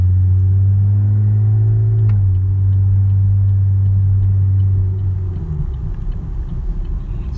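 A car engine rumbles steadily from inside the parked car. Its low, strong hum holds even, shifts down slightly partway through, then settles into a rougher, fainter idle.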